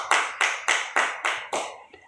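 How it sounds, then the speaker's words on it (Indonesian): Six evenly spaced, sharp broadband bursts sound like a short round of applause or rhythmic claps in a seventh-grade Christian religion and character classroom, fairly close, with no talking. "Mari kita berikan aplaus kepada kita semua"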